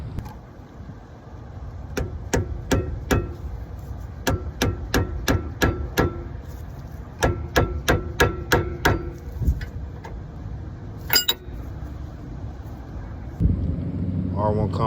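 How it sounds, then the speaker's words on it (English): A mallet strikes while tightening a bolt on the rear brakes of a Lexus IS. About a dozen sharp, evenly spaced metallic knocks come in two quick runs, with a few scattered knocks and handling noise afterward. "hit it with the mallet a couple times to get it real tight"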